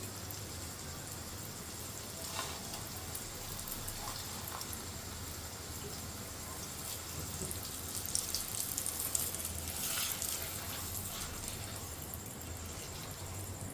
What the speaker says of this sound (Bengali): আমি এখন পরোটাটাকে তেলে ছেড়ে দিলাম